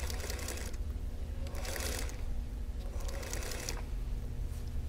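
A sewing machine stitches a quilt block for a Wheel of Mystery laser-cut kit, running in three or four quick bursts of rapid mechanical whirring separated by short pauses, with no talking.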